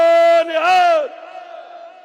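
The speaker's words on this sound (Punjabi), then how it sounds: "ਗੱਜ ਵੱਜ ਕੇ ਜਕਾਰਾ ਬੁਲਾਓ ਜੀ, ਬੋਲੇ ਸੋ ਨਿਹਾਲ" Sikh jaikara war cry at a political rally: one loud, sustained chanted shout lasting about a second, followed by a fainter, lingering crowd response.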